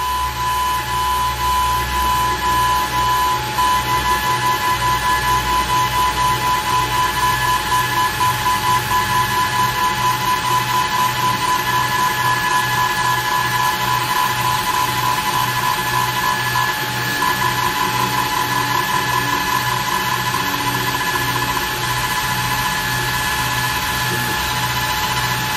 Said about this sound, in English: put the TF card into the machine, frame it, align it,